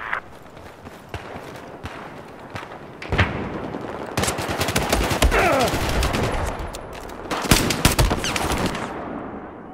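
Gunfire in a shooter video game, Glock pistol, with rapid bursts and scattered shots over running footsteps, loud and close, some stretches dense like automatic fire.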